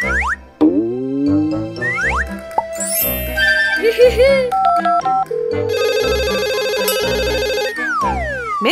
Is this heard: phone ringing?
yes